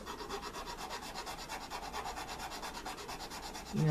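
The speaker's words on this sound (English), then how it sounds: "you just take your little handheld file here, and you just" A small handheld file scraped back and forth across a model freight car, in steady rapid rasping strokes, close and continuous, with a brief bump at the end.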